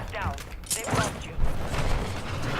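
Gunfire in the video game Warzone 2 from an MP7 crackles in short, sharp bursts and single reports amid game mechanics noise, with a player's voice talking over the action.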